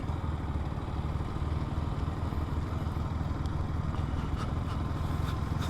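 A motorbike engine chugs steadily in a low, even rhythm while riding along a riverside village road, moderately close, with faint clatter near the end.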